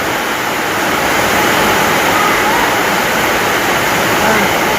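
Heavy morning rain falls outside a house with floodwater in front, a loud, dense, unbroken hiss of downpour that holds steady throughout and sounds close by.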